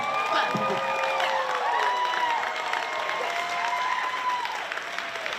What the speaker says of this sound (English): Clap for me, clap for me.